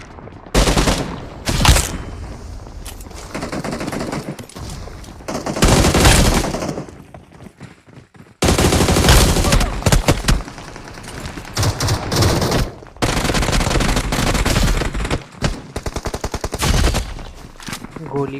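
Rapid, loud bursts of automatic gunfire from a mobile battle royale video game rattle almost continuously, broken by brief lulls.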